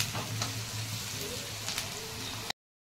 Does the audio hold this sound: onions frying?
yes